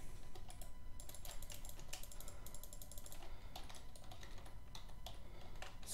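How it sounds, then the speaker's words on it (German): A computer keyboard and mouse click during PC play of Black Ops 2, giving fast, dense key clatter and clicks close to the microphone over a steady background hum, with no voice. "Sorry, wenn jetzt meine Tastatur und meine Maus hört."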